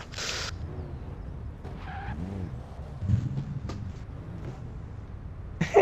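Tire skidding and engine noise from tandem drifting in Forza Horizon 3, played on a Logitech G920 wheel, with bursts of squeal at the start and end over a steady motor drone.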